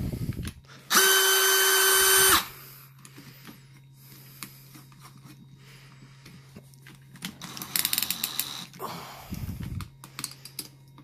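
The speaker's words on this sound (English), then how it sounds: "We're going to go ahead and actually drive these by hand, or excuse me, not by hand, but non-impact using a drill motor." A Milwaukee 1/4-inch hex angle driver is spun by a drill motor in non-impact mode, giving a loud, steady whine of about a second and a half. Quieter handling and clicking noises follow.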